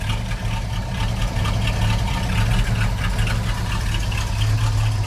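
A 1989 Chevrolet S10 pickup with a V-8 idles low and steady at roughly 600 RPM, running rich on stale fuel, a loud close rumble with an even rhythmic throb and no talking.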